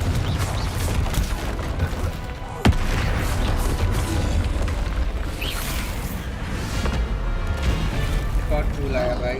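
Explosive Confringo spell blasts cast in Hogwarts Legacy, loud dense booms and rumbling impact noise with a sharp crack near the start, continuing under game sounds and a voice talking.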